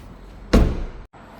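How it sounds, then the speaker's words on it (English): A BMW car door thuds shut once with a solid, close low-frequency slam, then the cabin falls briefly quiet. "Let's open up the door on the other side next."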